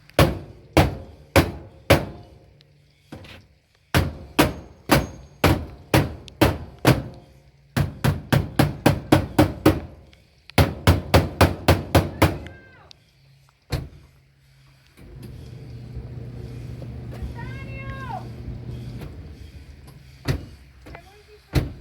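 A hammer raps a clothes dryer's door latch that no longer holds the door shut, striking in sharp repeated bursts of quick blows separated by brief pauses. A stretch of low mechanical hum and squeaks follows near the end.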